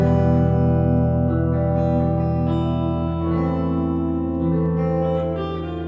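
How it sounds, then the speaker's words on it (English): A sustained electric guitar chord rings out through an MPC's large reverb effect, drenched in washy reverb, notes blending and decaying into a long shimmering tail. "So you have your reverb large."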